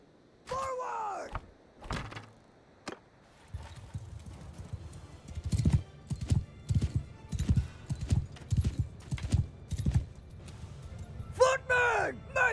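Horses galloping in the Mount & Blade II: Bannerlord video game, a rapid run of hoof thuds in the middle stretch amid battle noise, with shouted voices and brief calls at the start and end.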